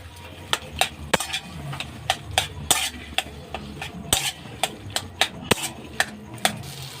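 A spoon mixes chili and turmeric powder into a jackfruit chop mixture in a pan, knocking and scraping against the metal in a steady, close rhythm of about a dozen strokes, with no speech.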